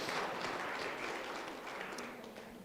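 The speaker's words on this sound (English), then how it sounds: "please give us a round of applause for them as well." Audience applause at a guide dog graduation ceremony, a steady wash of many hands clapping that holds for a few seconds at moderate distance and stays fairly quiet.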